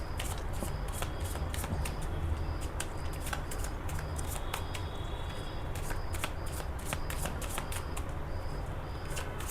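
Tarot cards are shuffled close up in a quiet room, a continuous soft riffle of papery flicks and sharp snaps repeating in quick irregular bursts, with no talking.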